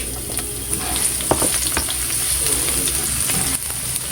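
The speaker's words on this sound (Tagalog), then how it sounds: "Dapat po ang bawang ay igisa po natin ng ayos" Garlic sautés in hot oil in a pan for menudo, a steady close sizzle broken by brief scraping stirs.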